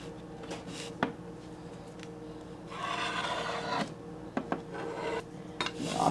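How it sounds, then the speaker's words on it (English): A spatula scrapes excess chocolate across the top of a mold, a few short rasping scrapes up close with light taps between them. "you want to get our spatula like that. And you're going to go hold it straight to the top."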